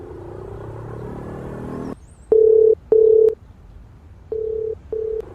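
An outgoing phone call rings with no answer: two pairs of loud electronic ringback tones, each pair two short pulses, sounding alone with no voices.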